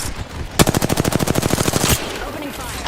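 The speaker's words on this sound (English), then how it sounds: "Opening fire." Rapid automatic gunfire from an aircraft in an air-combat video game, a loud sustained burst of evenly spaced shots lasting over a second before cutting off, with a faint voice nearby.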